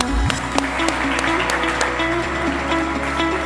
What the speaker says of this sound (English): Please give a huge round of applause to Enrique Costa.